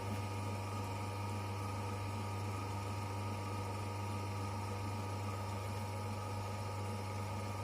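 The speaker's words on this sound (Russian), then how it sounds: "Замер биения шпинделя на сверлильном станке Optimum" A 500-watt motor on an Optimum B17 Pro drill press runs steadily, a constant low hum with a strong tonal drone and even mechanical whir, fairly quiet and unbroken, with no talking.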